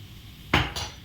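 A single sharp metallic clink of a spoon against a pan while stirring a potato stir-fry, close and brief over a quiet background.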